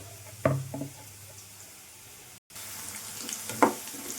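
Bitter gourd pieces fry in a pan with a soft, steady sizzle, broken by a few sharp knocks and stirring scrapes near the start and end and a short silent gap in the middle.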